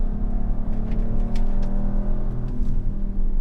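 A 2019 Audi RS5 Sportback's V6 engine hums steadily under load with a low, rumbling drone and slight rises in pitch, heard from inside the car, with no talking.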